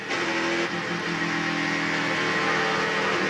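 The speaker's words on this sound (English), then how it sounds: "That you hear the car still running." An ARCA stock car idles on pit road at Kansas Speedway during a race, its engine running through an ignition problem: a steady, droning mid-range engine note with a constant tone, moderately loud over crowd and track ambience, with no clear talk.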